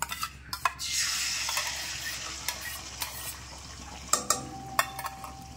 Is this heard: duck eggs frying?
yes